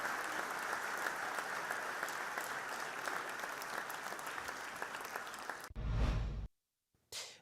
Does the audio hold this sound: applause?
yes